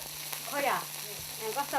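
Food sizzles in a wok in a farmhouse kitchen, a short burst of frying with swelling hiss and a few clattering stirs, close and moderately loud with no talking.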